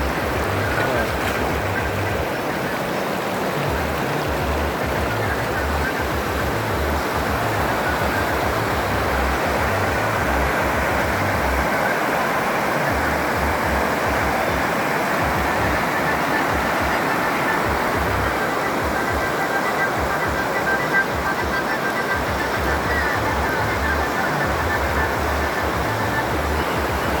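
A waterfall roars steadily and close throughout, a dense continuous rush of falling water with no pauses, its dark water pouring over rock.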